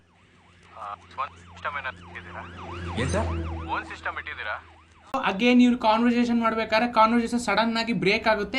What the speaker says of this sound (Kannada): ಬ್ಯಾಕ್ ಗ್ರೌಂಡ್ ಅಲ್ಲಿ ಆಂಬ್ಯುಲೆನ್ಸ್ ಸೌಂಡ್ ಕೂಡ ಬರ್ತಾ ಇರುತ್ತೆ